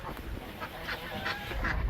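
Geese eating earthworms on a rainy day give repeated nasal honks and quacking calls close by, several birds overlapping in quick succession.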